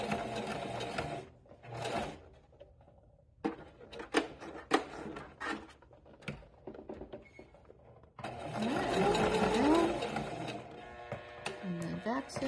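A sewing machine back stitches fabric for a bunny, its motor running in short bursts with gaps, then a longer steady whirring run near the end, while a person talks between the bursts.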